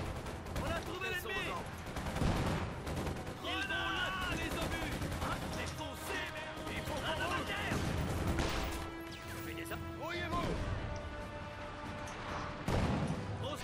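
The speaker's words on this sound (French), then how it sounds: "Ah, ces mortiers, ces canons obusiers là." Heavy mortar and howitzer fire from Company of Heroes 2, with repeated blasts and crashes over a continuous battle din, at moderate loudness.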